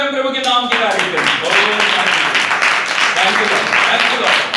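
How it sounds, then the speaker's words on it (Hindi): A church congregation breaks into clapping in praise after a preacher's call, a voice at the very start then sustained crowd applause with loud vocal exclamations mixed in. "ताली बजा के हम प्रभु के नाम की तारीफ करें।"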